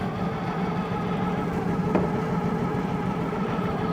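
A car engine idles steadily with its drive belt spinning, a low continuous mid-range hum with a faint brief click partway through; the engine is low on oil pressure.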